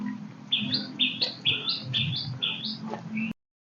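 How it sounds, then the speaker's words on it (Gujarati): A bird calls close by at a quiet hill temple in Panchmahal, repeating a bright two-part chirp about seven times at a steady pace over a low rumble before the sound cuts off. "ખાલી પક્ષીઓનો જ અવાજ આવે"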